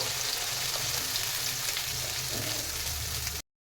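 Ground spice paste frying in hot oil with whole clove, cinnamon and cardamom for an egg curry, giving a loud continuous sizzle with faint stirring scrapes before cutting off abruptly.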